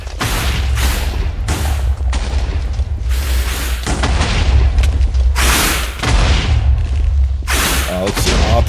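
Explosions in a chaotic video game boom repeatedly and loudly in heavy bursts, one after another, with low rumbling thuds in between and a voice speaking over the game audio.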